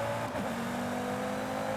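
A hot hatch in the Forza Horizon racing game revs its engine, a steady sustained engine drone with a brief pitch dip early on, loud and close with no talking.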